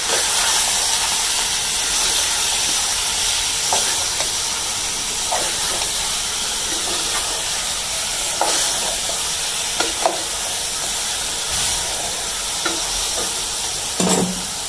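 Chicken keema sizzling in a pan with onions for an achari chicken recipe, a dense steady hiss that runs the whole time, with occasional soft stirring clicks and scrapes under the frying.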